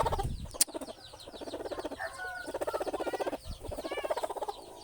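Rapid, continuous high peeping of many small chicks close by, in pulsing bursts with brief gaps and a couple of soft thumps.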